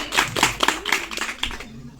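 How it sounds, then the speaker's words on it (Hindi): A group claps for schoolchildren at a school activity day, a short burst of quick, fairly loud hand claps that thins out after about a second and a half, with faint voices mixed in. "इन बच्चों के लिए भी जोरदार तालियां"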